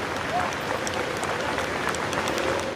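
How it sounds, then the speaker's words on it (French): A crowd in Paris applauds as the funeral convoy of former president Jacques Chirac heads to Saint-Sulpice church, a continuous wash of outdoor clapping held at an even level throughout. "le convoi funéraire rejoint l'église Saint-Sulpice pour un service solennel, sous les applaudissements des Français"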